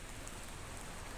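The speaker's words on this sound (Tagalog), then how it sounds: "At umuulan." Rain patters steadily onto an umbrella held overhead outdoors, a soft continuous hiss of drops with no voices.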